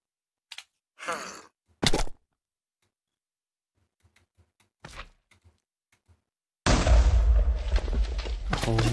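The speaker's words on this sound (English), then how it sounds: "I heard an explosion." An explosion in the Minecraft Sky Factory modpack bursts in abruptly near the end as a loud, broad blast that rumbles on, after several seconds of scattered faint groans and quiet thuds.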